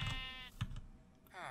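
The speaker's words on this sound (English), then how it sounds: "There's a sheep in here." A sheep bleats in a Minecraft modpack village, two short, quiet bleats, one at the start and one at the end, with soft clicks between.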